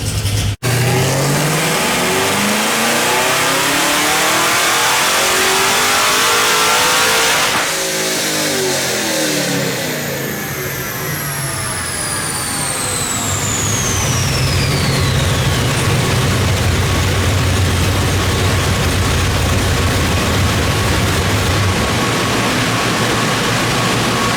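A supercharged Chevrolet Camaro ZL1 with a Nickey Stage 2 setup roars through two back-to-back full-throttle pulls, loud and close, the engine note climbing steeply with supercharger whine, dropping off briefly between runs, then rising again.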